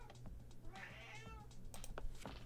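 A white cat meows with a drawn-out, rising and falling call near the start, followed by a shorter meow, close by over steady low background hum from a game in progress.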